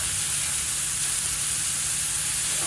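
Smash burgers sizzling on a hot camp grill griddle, a loud, dense, continuous hiss close up with a faint low rumble underneath and no talking.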